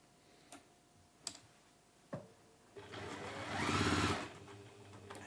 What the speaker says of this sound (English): You want to sew a strip to the left hand side.